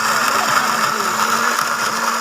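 An electric blender runs continuously while making orange juice, a steady loud motor whir with a high whine and no break across the span.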